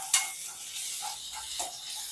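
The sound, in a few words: onion with ginger garlic paste sautéing in a pan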